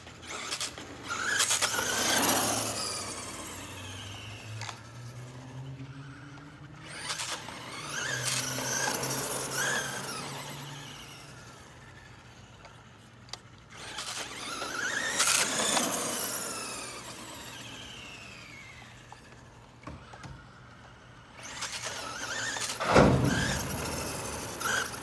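A Traxxas Stampede 2WD RC truck on a 2S LiPo with the VXL system, its electric motor whining up in loud, rising squeals in repeated bursts as it accelerates, with quieter gaps between runs.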